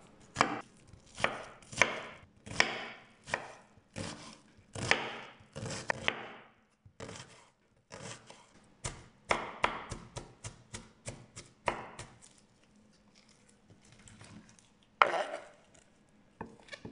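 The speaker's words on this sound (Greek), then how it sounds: "Στη συνέχεια ψιλοκόβω το κρεμμύδι." Knife finely chopping onion on a board for a Greek mince pie filling, a close series of crisp, rapid taps in bursts with short pauses, no talking.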